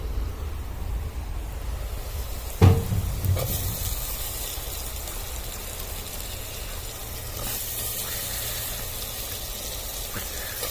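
Washed potatoes drop into a pan of frying onions with a single sharp thump and splash, followed by a steady soft sizzle and hiss that continues to the end.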